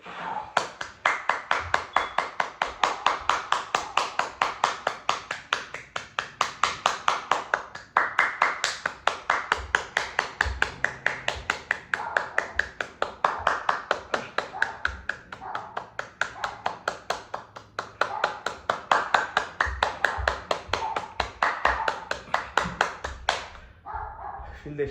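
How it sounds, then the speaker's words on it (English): Hands clapping during a yoga breathing exercise, a fast, steady run of sharp close claps continuing for over twenty seconds before stopping near the end. "As you breathe out, clap."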